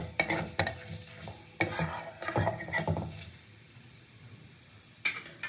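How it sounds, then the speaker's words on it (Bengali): Black and white cumin seeds fry in oil for a fish curry base, with irregular scrapes and clinks of a spoon stirring the pan over a soft sizzle, busy early then quieter with one last scrape. "তো ফোড়নটাকে আগে খুব ভালো করে ভেজে নেব"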